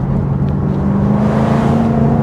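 A Jaguar F-Type V8 convertible, top down, roars steadily with a deep, loud engine and exhaust drone held at high revs throughout, with no talking.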